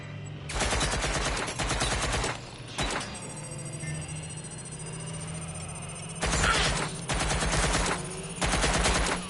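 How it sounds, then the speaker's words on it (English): Gunfire in the video game Watch Dogs Legion comes in several loud bursts of rapid automatic shots separated by quieter gaps of background game ambience, without speech. "I'm getting shot at here!"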